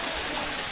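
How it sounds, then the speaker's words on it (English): Waterfalls at thermal pools on Ischia Island, Italy, a steady full rush of falling water, loud and close, with no voices. "So each waterfall here has a different pressure."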